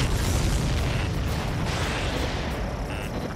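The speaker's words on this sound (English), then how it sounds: "Did you see that explosion?" A loud, sustained explosion roars with a deep rumble that slowly fades over a few seconds, with no voices; an aircraft explosion in the video game Ace Combat 7.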